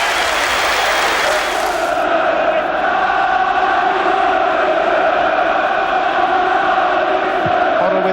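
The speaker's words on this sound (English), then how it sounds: "he gets applause from his manager on the bench and from the Tottenham fans as well" Dense crowd noise from Tottenham fans in a large football stadium after a goal, steady applause and cheering that swells then holds, loud and continuous throughout.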